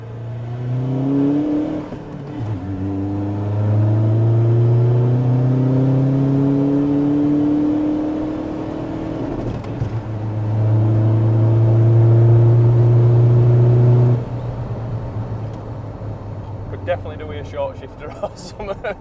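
A VW Amarok 2.0 BiTDI pickup accelerates hard at near full throttle, its engine drone rising steadily in pitch through two long pulls with a brief gear-change dip between, loud and close inside the cab.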